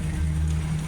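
Steady rain falls during a hide-and-seek game played across Japan, a continuous dense hiss close by with a low rumble underneath and no voices.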